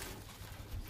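A short, faint, low coo from a lal-dum pigeon in a loft, quiet and brief with no talk.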